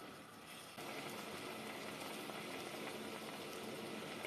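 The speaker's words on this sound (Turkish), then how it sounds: "Gördüğünüz gibi kaynıyor şu anda." Strawberry jam in a pot starts a steady bubbling simmer partway in and keeps up a soft, continuous burbling hiss, close and even, with no voices.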